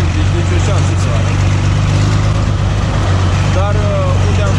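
A tractor engine runs steadily while baling in an alfalfa field, struggling to pull, giving a continuous low, throbbing drone at close range.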